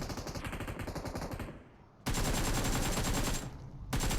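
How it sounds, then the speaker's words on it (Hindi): Gunfire in the mobile battle-royale game BGMI: loud, rapid automatic bursts rattle continuously, cut off briefly by a quieter pause before another sustained volley resumes, then a short gap and more firing. "गोलियां पता नहीं कहाँ चल रही हैं।"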